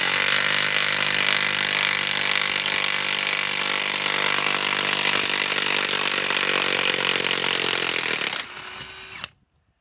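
Bosch GDS18V-330C cordless impact wrench backing out 5/8-inch lag screws, a loud continuous hammering whir held for about eight seconds, then a brief looser rattle as it spins free and stops.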